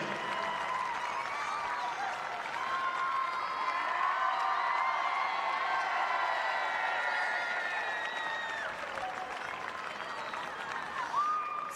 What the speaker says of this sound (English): please put your hands together for the captain of the winning team from Auckland United, Jess Philpott